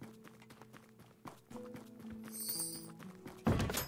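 Horses clip-clopping in the video game Tavern Manager Simulator: soft, quiet hoof clops over a steady tonal background, ending in a louder thump.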